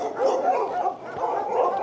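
Several dogs barking at a kennel in Sicily, a dense overlapping stretch of close, loud barks and yips with no pause.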